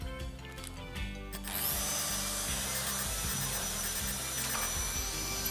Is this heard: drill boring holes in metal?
yes